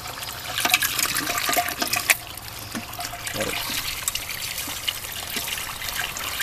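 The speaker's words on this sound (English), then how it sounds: "Just rinse it out into your pan." Water rinses a small gold spinner out into a prospecting pan, a fairly quiet continuous trickling and splashing with a few brief louder sloshes.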